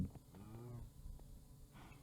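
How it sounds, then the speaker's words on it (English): Cows mooing in the Minecraft modpack Stoneblock 2, one drawn-out low moo near the start followed by fainter lowing, quiet and close. "shut up, cows."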